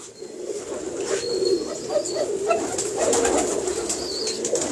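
Imamdin breed pigeons cooing and calling softly and steadily at mid distance, with faint chirps and rustling in a busy open-air setting.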